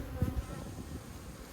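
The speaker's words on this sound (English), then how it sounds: "I've got the frame of bees." Honeybees buzz on a frame lifted from a hive, a low, steady hum that swells briefly near the start and then settles into a faint continuous drone.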